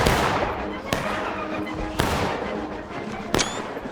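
Musket volleys in the video game War of Rights during a Civil War–era skirmish, three sharp reports spaced about a second apart over a constant rumble of distant firing.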